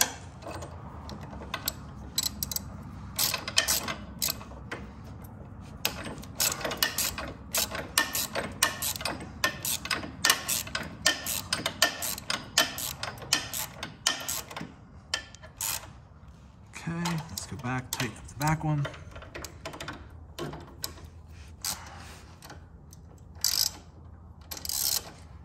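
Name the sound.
tightening bolts on Harley Davidson brake lever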